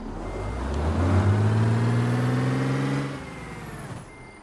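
A heavy truck engine rumbles and revs up, its low drone rising in pitch, with a thin high whine above and faint beeping, no talking.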